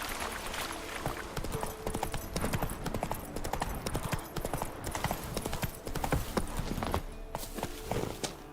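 Roach the horse gallops in The Witcher 3, hooves pounding in a steady, dense clip-clop rhythm that stays loud and continuous throughout, with game ambience layered underneath.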